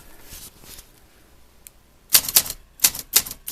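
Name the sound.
Olympia typewriter typing, around 1970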